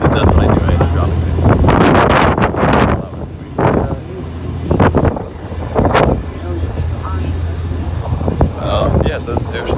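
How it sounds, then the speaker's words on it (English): Wind buffets the microphone over a tour boat's steady engine drone on the open ocean off San Diego, with a person talking loudly through much of it. "This is a boat tour in San Diego."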